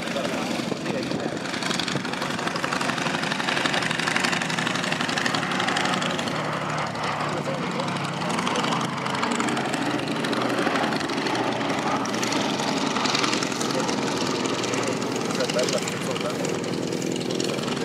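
Propeller aircraft engine droning steadily at the Duxford D-Day airshow, a continuous roar in the open air, mixed with a commentator talking over the public address.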